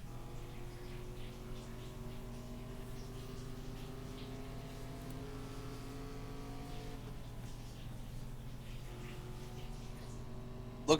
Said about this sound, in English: Look at this gaggle of cars.